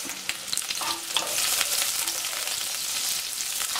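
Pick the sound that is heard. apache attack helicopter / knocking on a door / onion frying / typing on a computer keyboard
onion frying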